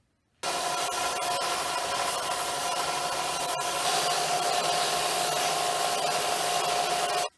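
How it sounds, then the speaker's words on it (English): Wood being sanded by hand to thin one side of a homemade blade handle, a steady continuous abrasive rubbing that runs close and unbroken for several seconds, with no talking. "So now I'm going to sand the other side and make it skinnier so the blade can easier fit on that wood."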